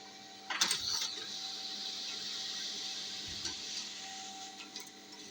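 A Canon LBP 6030 laser printer printing a page with standard page setup, a steady close mechanical whir with a faint tonal whine, a paper-feed clack near the start and another thump partway through.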